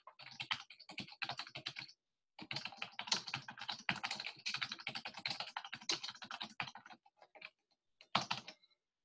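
Rapid typing on a computer keyboard, close and quiet bursts of clicking keystrokes broken by short pauses, with no voices.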